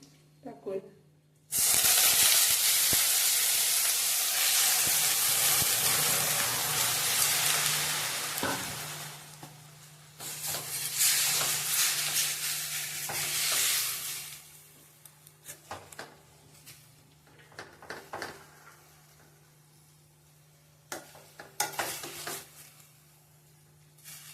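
Grated bottle gourd hits hot ghee in a heavy pan with a loud burst of sizzling, then keeps frying under stirring and scraping that grows patchier and quieter.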